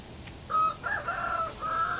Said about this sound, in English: that's the roosters fighting amongst themselves